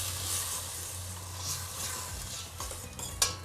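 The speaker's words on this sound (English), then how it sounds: "And then you just mix it all together." Tomato sauce and beef are stirred together in a pan, giving soft continuous scraping and a low sizzle, with a brief utensil clink near the end.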